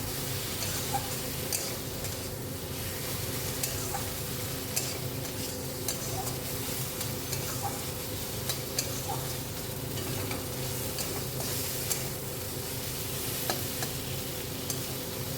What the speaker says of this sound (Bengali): এর মধ্যে আমি দিয়ে দিলাম চিংড়ি মাছটা দেখো ভালো করে মশলার সাথে একটু কষিয়ে নিচ্ছি।